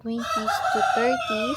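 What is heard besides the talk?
rooster crowing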